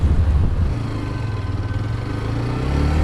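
A Hero Xtreme 125R motorcycle engine spins near redline, its smooth, steady hum dipping briefly early on, then holding an even pitch and swelling slightly toward the end, with no one talking.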